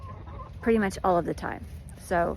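Backyard chickens cluck in a few short, close bursts while a person talks over them.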